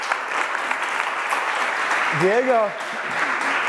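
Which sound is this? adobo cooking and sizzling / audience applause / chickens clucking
audience applause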